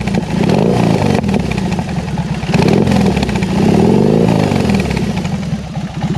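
A BMW R18 Custom motorcycle, a boxer-twin cruiser, runs loud and close, its engine rumbling with a mechanical clatter and rising in a few blips of revving.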